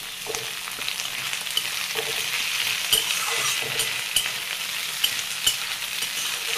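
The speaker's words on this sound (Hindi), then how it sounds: "अब इसी में डाल देती हूँ मैं आलू। आलू को भी थोड़ी देर फ्राई कर लेती हूँ।" Potatoes fry in a pan of oil with a steady, close sizzle, while intermittent stirring scrapes and taps sound over it.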